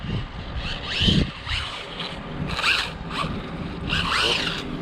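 Rlaarlo AMX12 RC car accelerating fast, its electric motor giving several quick high-pitched whining bursts that rise sharply in pitch, mixed with wind buffeting on the microphone.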